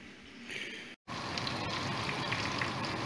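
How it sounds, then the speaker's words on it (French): Small green peppers cut into long strips frying in chicken cooking oil for a Spanish paella, a steady close, loud sizzle and crackle that cuts out for a split second, then continues unbroken. "c'est donc la friture des petits poivrons verts coupés en longs morceaux dans l'huile de cuisson du poulet."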